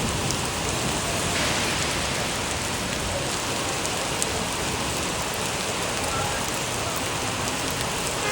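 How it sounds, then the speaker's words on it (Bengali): A heavy downpour pounds steadily and loudly outdoors during a ride through hilly landslide country with hail falling, a dense unbroken roar of rain for the whole stretch. "বিশাল জোরে বৃষ্টি হচ্ছে, বিশাল জোরে।"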